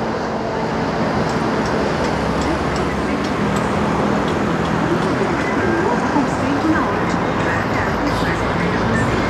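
A BRT bus passes in heavy city traffic on Avenida Torquato Tapajós in Manaus, heard as a loud, steady roar of engines and road noise, with someone talking over it.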